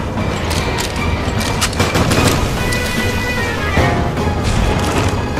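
Gunfire from the video game Resident Evil Revelations HD, a steady dense rattle of shots and impacts that continues throughout, loud and close with no pauses.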